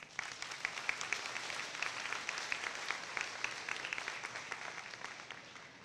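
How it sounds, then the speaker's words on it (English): Sustained applause from a school audience at a high school moving-up ceremony, a dense steady patter of many hands clapping throughout, moderately distant and even in level with no pauses. "please give yourselves a round of applause"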